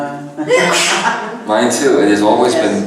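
A single sharp sneeze bursts out close to the microphone in the middle of a conversation, with people talking just before and just after it.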